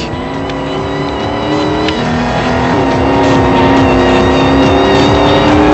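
Racing car engine droning steadily in the Dreamcast racing game Vanishing Point, pulling away and rising in pitch as it accelerates, loud and continuous with no talk.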